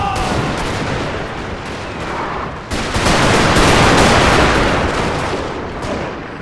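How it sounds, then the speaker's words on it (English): Artillery and massed musket fire in a Total War battle game set at the 1861 Battle of Bull Run, a dense, continuous roar of distant booms and crackling volleys that swells louder midway and stays chaotic throughout. "Yeah, the artillery coming in and it shakes up the whole screen."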